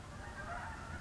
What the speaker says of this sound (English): We got geese coming in.